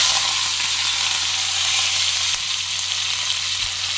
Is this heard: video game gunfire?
no